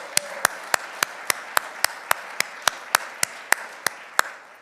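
Sparse, evenly spaced hand claps, roughly fifteen sharp slaps, from a small audience at a police department swearing-in ceremony in Myrtle Beach, heard over a low room hum.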